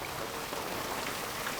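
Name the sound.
hailstorm with heavy rain and wind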